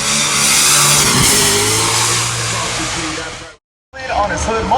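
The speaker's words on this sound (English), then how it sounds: "rocking a little 360 there, a donut" A car at the Goodwood Festival of Speed revs hard while spinning a 360 donut, a loud sustained engine roar with rising pitch that cuts off abruptly near the end before picking back up.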